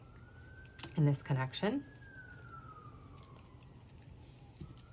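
A distant siren heard through an open window wails faintly in a long falling tone, briefly overlapped by a voice speaking close by.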